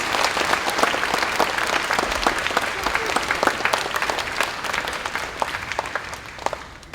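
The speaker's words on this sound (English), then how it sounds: "give our four speakers a round of applause" Steady applause from an audience at a fifth grade moving-up ceremony, many hands clapping at once, sustained and fairly loud throughout before tapering slightly at the end.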